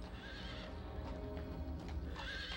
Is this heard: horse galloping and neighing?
yes